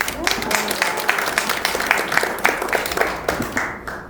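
Audience applause at a book launch celebration for a local history research journal's second issue, a steady burst of many hands clapping together in a hall, continuous over its length with a voice speaking faintly underneath.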